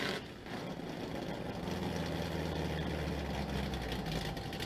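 Truck engine rumbling through a loud aftermarket exhaust that has stayed on through three motors, a steady deep idle drone that holds close and loud throughout with no talk.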